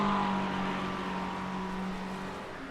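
GT3 race cars on the front straightaway at Virginia International Raceway, a fairly faint engine whine at steady pitch that slowly fades as the cars pull away into the distance.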